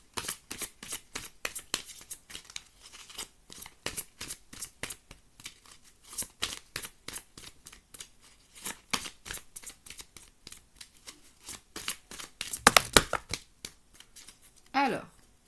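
Tarot cards shuffled, flipped and set down at close range, a long run of dry crisp slaps and riffles in an uneven rhythm with no talking.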